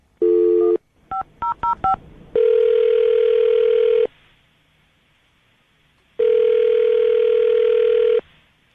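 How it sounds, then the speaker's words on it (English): Phone dialing: a tone, a rapid series of short keypad beeps, then long steady ringback tones separated by silence. "Dial the phone right now."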